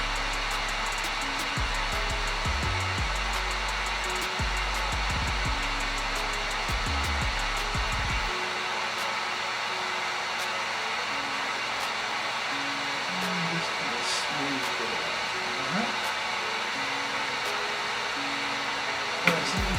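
A heat gun blows hot air onto a Glock 19 rear grip, giving a steady close whooshing hum that runs throughout, with a few low rumbling bumps early on.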